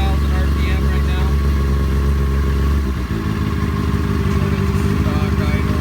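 A motorcycle engine idles at about 2,000 RPM, giving a loud, steady, close-up drone with a brief dip in the middle before it settles back into an even idle.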